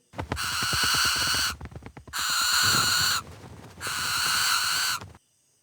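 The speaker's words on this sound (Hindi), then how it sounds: "चीखते हुए 3 उल्लू बाहर निकले।" Three harsh, raspy owl screeches, each over a second long, separated by short pauses, loud and close.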